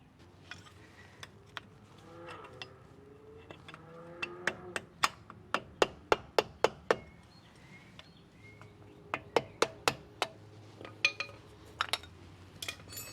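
Metal parts clinking as a wheel hub dust cap is pried out on a 2014 GMC Sierra / Chevy Silverado 1500 pickup, a run of sharp close taps and clicks in two bursts over low background hum.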